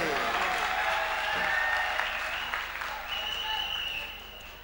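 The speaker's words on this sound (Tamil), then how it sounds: "எங்கே உங்கள் கரகோஷங்கள் செல்வன் வசந்துக்கு?" An audience at a music show applauds a young singer after his song, a dense burst of clapping close by that stays strong and then gradually thins out.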